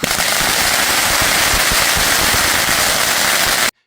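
Rapid crackling fireworks explode in a dense, loud barrage of pops and bangs that runs continuously, then cuts off abruptly.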